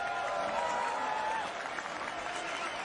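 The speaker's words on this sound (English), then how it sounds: "You can hear the crowd. They want this teenager to continue." A stadium crowd at a U.S. soccer match roars and applauds in a steady, dense wash of cheering, with no individual voices standing out.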